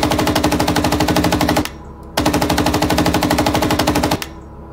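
Machine gun fire in the PC tank game Gunner, HEAT, PC!: two loud, sustained rapid-fire bursts, each lasting about two seconds, separated by a brief pause.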